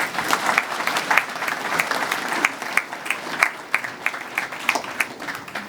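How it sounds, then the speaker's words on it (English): A crowd applauds at a softball team honors event, steady clapping with sharp individual claps standing out, moderately loud and without talk. "Let's give him a little round of applause."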